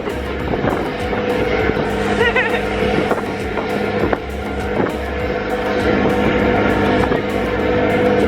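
An NYC ferry under way, with a steady loud engine drone and roaring wind buffeting throughout and occasional knocks over the continuous rumble.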